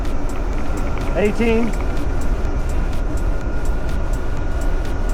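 An EZGO golf cart fitted with a Temgo lithium battery upgrade drives along, giving a steady electric motor whine over constant rolling and road noise, with a brief spoken word partway through.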